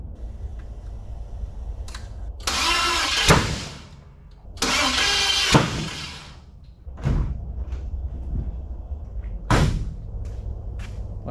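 Big Block Chevy 454 V8 in a C10 pickup with a flat tappet cam being broken in: two loud cranking bursts of several seconds each, then a few scattered thumps and clunks nearby.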